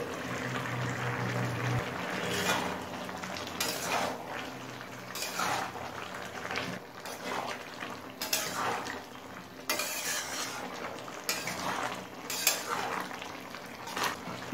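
Mixed vegetables get stirred in a cooking pot after the lid is lifted, with repeated scraping and clattering utensil strokes over a soft, steady sizzle; no voice is heard.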